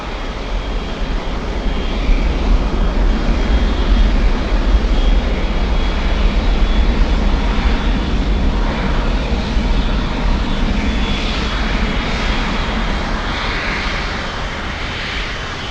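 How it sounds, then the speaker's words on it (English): An Avianca Cargo plane landing at Miami International Airport gives a steady, loud broadband engine roar that holds through the whole stretch without fading. "let's go for Avianca Cargo landing up"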